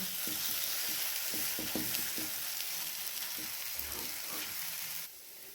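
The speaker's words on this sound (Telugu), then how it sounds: "అడుగు అంటకుండా కలుపుకోవాలండి" A vegetable omelette bhurji is stirred in an oiled pan, soft sizzling with repeated scraping strokes of a spatula, fairly quiet, ending abruptly as the frying sound drops away.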